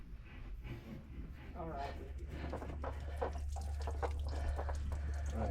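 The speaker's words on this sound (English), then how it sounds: "Just pouring water? It's diesel." Diesel fuel is poured while priming the fuel filters of a 1995 Ford L8000 truck with an 8.3L Cummins engine, a soft continuous liquid trickle heard close up under low background noise.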